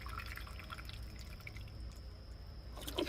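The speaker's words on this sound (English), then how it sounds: "I'm going to just water this. I don't know if you all see, it's starting to go through." Water drips and trickles through an upside-down tomato planter after watering, a faint, soft patter of small drops that runs steadily, with a slightly louder splash near the end.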